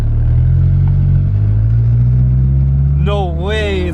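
A car pulls away in first gear, its steady low engine drone loud and close throughout, with a voice speaking over it near the end.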